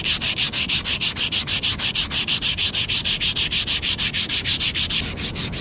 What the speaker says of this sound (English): So I'm gonna use this sandpaper. I'm gonna rub this down.